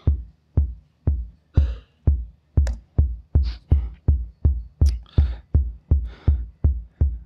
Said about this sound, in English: This is the TR-808 kit, which is quite popular in dance music.